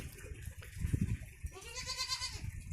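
A female Sirohi and Boer cross goat bleats in a wavering, drawn-out call, with some soft shuffling and background noise around it.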